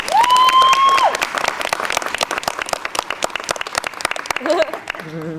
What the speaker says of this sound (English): How about a big round of applause for our two pilots?